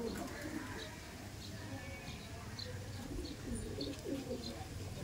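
Chennai line Madrasi pigeons coo softly and intermittently, faint and somewhat distant, while people talk quietly nearby.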